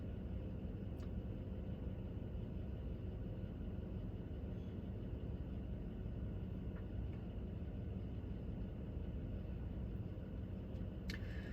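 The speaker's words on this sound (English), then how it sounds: "I had the window down, but this diesel truck in front of me is so loud." A loud diesel truck ahead rumbles steadily, heard through an open car window as a constant low engine drone with road noise and no talking.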